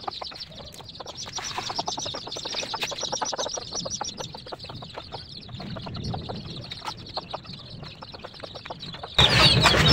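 Baby chicks peep and peck as they eat turmeric-coated rice flour on a farm, giving a busy, continuous stream of close, tiny chirps and ticking pecks, ending in a louder burst of fluttering.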